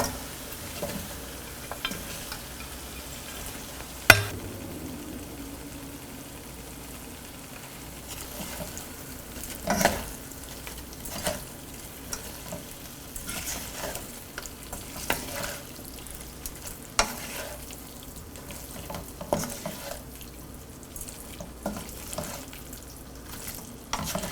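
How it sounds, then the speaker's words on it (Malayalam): Shallow-fried duck pieces being stirred into tomato masala in a pan, quiet sizzling under repeated spoon scrapes and knocks against the vessel, close by with no speech. "ഇതിലോട്ട് നമ്മൾ ഷാലോ ഫ്രൈ ചെയ്ത് വെച്ചിരിക്കുന്ന താറാവിട്ട് നന്നായിട്ട് മിക്സ് ചെയ്യുക"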